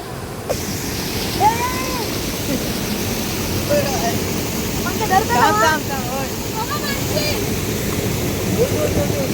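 A rain-swollen village river rushes past in a loud, steady roar close by, with a few faint bird calls rising above the flow.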